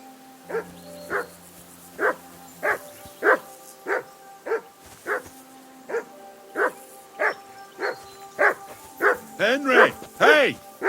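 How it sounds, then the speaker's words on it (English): Regular, loud barking from a dog in Kingdom Come: Deliverance II, over a dozen evenly spaced barks nearby that turn into higher, excited yelps toward the end. "I assume you can hear that damn dog of yours barking."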